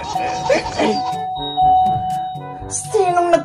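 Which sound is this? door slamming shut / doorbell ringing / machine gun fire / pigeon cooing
doorbell ringing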